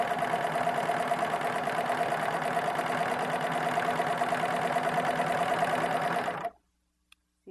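Serger sewing a rolled hem edge at its maximum stitch setting, a loud steady close mechanical whir running evenly for about six seconds before stopping abruptly into silence, with no talk.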